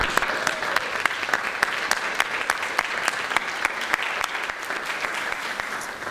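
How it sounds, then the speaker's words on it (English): Applause from an audience welcoming new policy fellows and alumni at an education partnership event, steady and dense clapping that fills the room throughout with no talk over it. "let's give them a welcome and round of applause."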